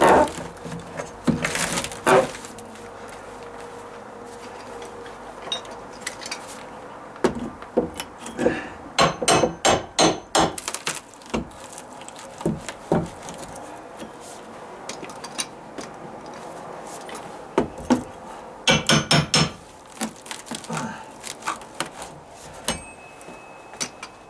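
Someone pries out a dry-rotted wooden stud set against a stucco wall on a deck, with scattered knocks, creaks and sharp clusters of impacts separated by pauses, close by.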